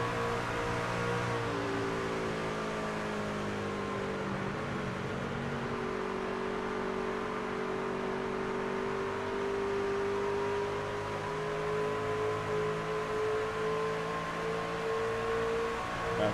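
A racing pickup truck at Homestead-Miami Speedway roars steadily as it exits a corner under hard throttle, its engine note climbing and holding loud and close for the whole stretch, with no talk over it.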